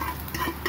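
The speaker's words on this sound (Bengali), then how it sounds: "তেল গরম হয়ে গেছে, এখন এটা ঢেলে দিলাম" Batter poured into hot oil on a griddle pan, a close crackling sizzle with brief stirring or pouring bursts, short and fairly quiet, no talking.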